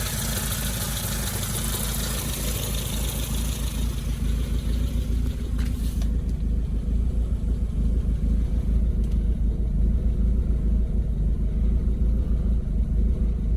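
A car engine idles steadily while warming up after work on its alternator and fuel system, a continuous low rumble that holds even and unbroken throughout with no talking.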